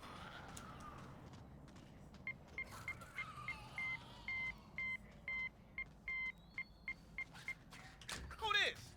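A ringing phone in the Shaolin Shuffle zombies game plays a sequence of short evenly spaced electronic tones, faint beeps pulsing in a steady pattern over a low ambient background.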